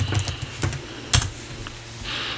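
Keys clatter on a computer keyboard in quick bursts of close, crisp taps with short pauses, then a faint steady hiss near the end.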